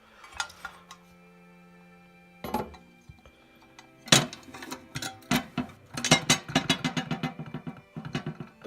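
Swivel seat in a VW T4 campervan rattling over bumps, with sharp metallic clinks and chatter in irregular bursts that grow busier toward the end, close and fairly loud.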